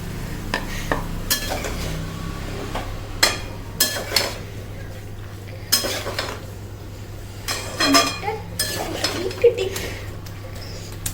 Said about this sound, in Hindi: अब इसी में ये बारीक कटे हुए टमाटर मैंने डाल दिए।